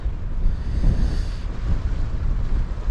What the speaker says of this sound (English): This wind's incredible, got a really strong northeasterly.